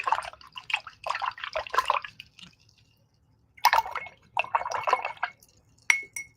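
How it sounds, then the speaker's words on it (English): A paintbrush swished and rinsed in a container of water while painting brick bookends, giving bursts of close, wet sloshing and clinking dabs separated by a short quiet pause, no voices. "So I'm going to wash my brush."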